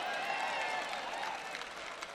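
Church congregation clapping, a steady wash of applause from a crowd heard at moderate distance, continuous throughout with no individual claps standing out.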